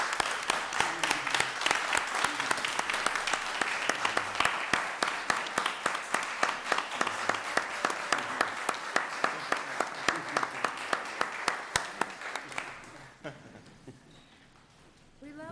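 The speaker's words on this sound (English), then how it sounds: "Can we please have a round of applause for Angelina Delasante?" Sustained applause from an audience at a school committee meeting, steady rhythmic clapping that holds for about thirteen seconds before tapering off into quiet room tone.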